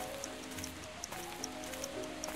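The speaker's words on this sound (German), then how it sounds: "hier ist Regen" Rain in a Sherlock Holmes video game falls as a soft, steady patter on surfaces, with small drip-like ticks scattered through a low, continuous background.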